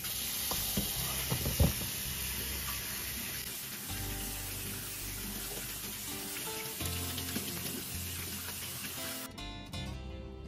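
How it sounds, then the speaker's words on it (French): Canned chickpeas are drained and rinsed under running water, a continuous soft hiss and splash that grows busier with a few clattering knocks near the start. The sound is fairly quiet and there is no speech. "On commence par les égoutter et les rincer."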